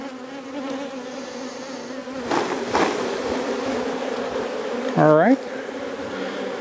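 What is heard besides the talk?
honeybees buzzing after being shaken from frame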